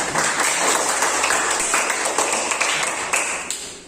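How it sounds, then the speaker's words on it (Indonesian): Short burst of clapping from students in a classroom lesson, a mix of scattered claps and taps at close range that thins out toward the end. "Tepuk tangan buat kita."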